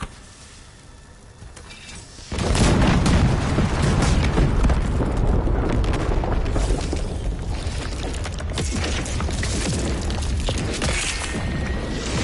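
Bombs go off in the action game First Berserker Khazan: after a quieter stretch, a sudden loud boom swells into a sustained, heavy rumbling roar that carries on to the end.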